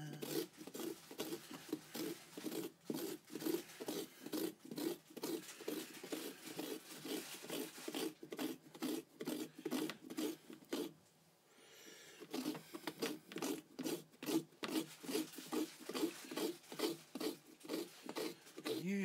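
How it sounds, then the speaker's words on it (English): Metal spoon scraping flesh from the inside of a carved pumpkin, a close, quiet, rhythmic rasping of repeated short strokes with a brief pause midway before the scraping resumes. "using the sharp end of the spoon, basically just to scrape off any of the flesh"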